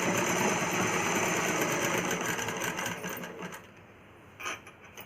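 A sewing machine runs steadily while stitching the lining seam of a child's umbrella frock, then slows and stops toward the end, leaving a faint click.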